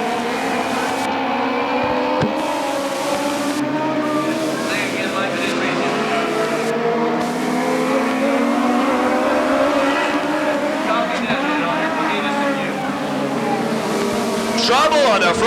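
Dwarf race cars howl around the Bakersfield Speedway oval during a CDCRA dwarf car race, a loud, continuous blend of revving engines with rising and falling pitch as the pack passes, while an announcer talks over the noise.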